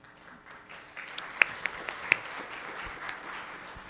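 Audience applause at a university reconciliation forum, moderate and somewhat distant, with a few sharper individual claps standing out over a diffuse crowd wash lasting several seconds.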